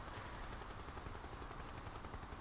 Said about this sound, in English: What do I hear? Helicopter.